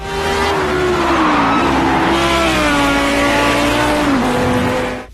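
Race car engines roar in the video game Project Cars 2, a loud continuous high-revving drone with rising and falling pitch as gears shift, close and steady throughout.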